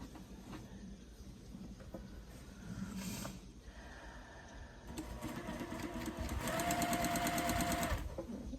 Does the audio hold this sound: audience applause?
no